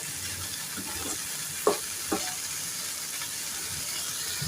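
Bean and potato curry with small dried shrimp stirred in a frying pan: a steady sizzle runs throughout, with a few sharp spoon scrapes and knocks against the pan. No voices.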